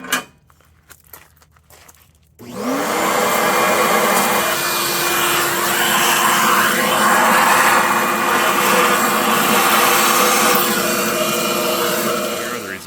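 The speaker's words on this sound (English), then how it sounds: "now I'll vacuum out all that finer material." Vacuum sucking up fine crushed rock material after a rock crushing for gold prospecting: a few quiet handling knocks, then a loud motor whine starts abruptly and runs steadily, with gritty rattling of particles drawn through the hose.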